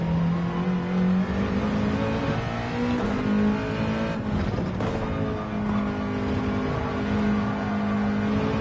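A race car engine revs and accelerates hard through a corner at Fuji in a racing video game, rising and falling in pitch with brief tire squeal and no talking.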